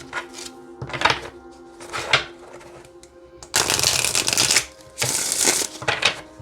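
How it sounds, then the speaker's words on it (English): A deck of Llewellyn animal oracle cards is shuffled by hand in close, crisp bursts: several short riffles, then two longer, louder rippling shuffles near the end. "Now let's see how it shuffles."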